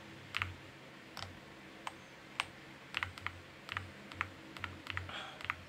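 Typing on a Chilkey ND75 mechanical keyboard, a string of crisp, close clacky keystrokes in an uneven rhythm, each press sharp and distinct against a quiet background, with no talking.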